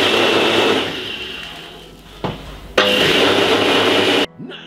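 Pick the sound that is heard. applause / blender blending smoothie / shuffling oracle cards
blender blending smoothie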